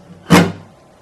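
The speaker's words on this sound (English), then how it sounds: "we're going to rest our fingers across the strings lightly, and we're going to give one good downstroke across the strings" A single sharp downstroke across lightly muted guitar strings, a short percussive chuck that cuts off quickly with little ringing, close and alone.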